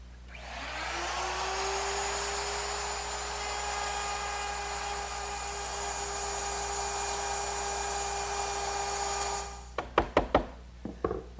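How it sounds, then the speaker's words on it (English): An overarm router fitted with a 1/4 inch round nose bit cuts a groove in wood, a loud steady high-pitched whine held for several seconds, then a few sharp knocks of wood after it stops. "I just used my overarm router, which is now equipped with a 1/4 inch round nose bit"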